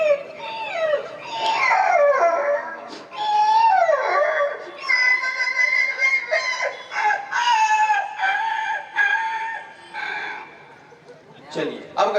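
A voice mimics a litter of puppies howling and yelping, with rising and falling wails and whimpering cries delivered on stage, loud and close, with laughter-like breaks between phrases.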